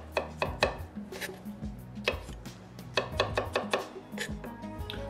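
A knife chops olives on a cutting board in quick, uneven bursts of sharp taps, with close, crisp strikes and brief pauses between runs.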